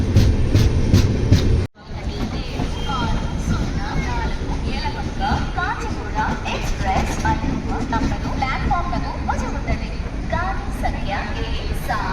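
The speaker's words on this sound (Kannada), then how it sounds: "ನೋಡ್ರಿ ಹೆಂಗೆ ಹೋಯ್ತಾ ಇದ್ದೀವಿ ಇವಾಗ ನಮ್ಮ ಟ್ರೈನ್" A train rumbles loudly and steadily along the tracks with a rhythmic clatter, after a brief sudden drop in noise, faint voices underneath, on the run from Yelahanka Junction to Hyderabad.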